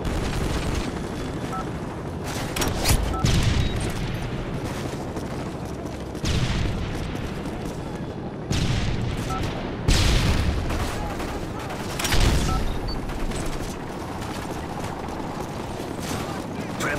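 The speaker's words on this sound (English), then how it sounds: "Бомбы сброшены." Bombs explode after an airstrike in Call of Duty: Modern Warfare 3, with repeated heavy booms and rumbling blasts at irregular intervals over dense battlefield noise, mixed with game voice callouts.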